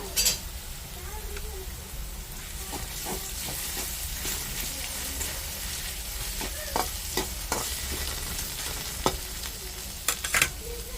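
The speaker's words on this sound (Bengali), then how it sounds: "আলুটা লাল লাল করে ভাজা হয়ে গেছে, এখন মশলা দিয়ে দিবে" Fried potatoes sizzle in a pan after cumin paste is added, a steady crackling hiss broken by repeated scrapes and clinks of a spatula stirring against the metal.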